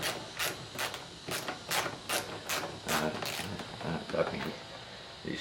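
Quick, regular ratcheting clicks from a 10mm wrench loosening the bolts on a Hyundai Sonata side mirror, close and fairly quiet over a low background hum.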